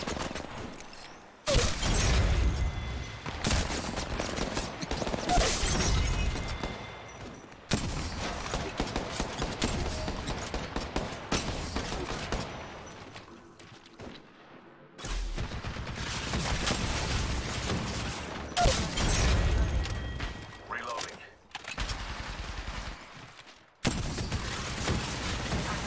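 Gunfire in the mobile shooter Apex Legends Mobile: loud, dense bursts of rapid automatic shots in long stretches, broken by brief silences, with no talk over them.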